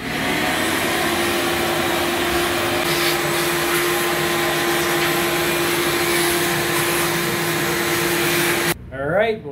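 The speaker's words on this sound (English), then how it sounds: "So we're gonna blow it out, get her all nice and clean." A steady, loud blower or vacuum hiss runs for about nine seconds, used to blow out a K&N air filter from a Mercedes SL550, then cuts off abruptly, followed by a short burst of speech.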